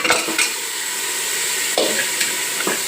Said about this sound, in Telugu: ఏమాత్రం నీసు వాసన ఏం లేకుండా మంచిగా ఇట్లనే ఒక 4-5 నిమిషాలు వేయించుకోవాలి.